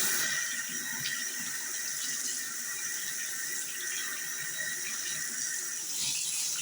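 Water runs steadily from a tap while a Sarlec switch button is washed, a constant splashing rush with faint knocks, close and without talk.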